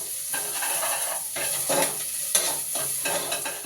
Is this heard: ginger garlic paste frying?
yes